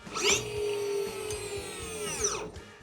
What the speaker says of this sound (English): when you push the throttle, you can hear the motor spin up